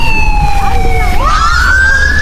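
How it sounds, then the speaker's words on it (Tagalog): An ambulance siren wails close by and loud, its pitch falling and then sweeping back up, over rumbling traffic or engine noise. "Ambulance."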